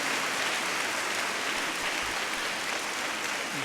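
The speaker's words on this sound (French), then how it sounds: "On nous applaudit encore pour le ministère Shalom et que le Seigneur bénisse." A church congregation at a Baptist worship service in Cap-Haïtien, Haiti, claps together in sustained, dense applause, steady and fairly loud across the whole stretch, with no speech over it.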